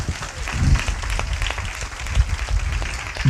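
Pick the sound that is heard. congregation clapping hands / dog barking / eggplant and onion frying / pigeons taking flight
congregation clapping hands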